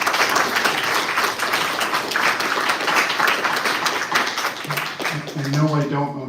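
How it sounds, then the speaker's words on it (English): A crowd at a live candidates' meeting applauds in a dense, steady wash of clapping that continues throughout, tapering slightly at the end as a voice begins. "So I'd like to have one round of applause for the people that stood up"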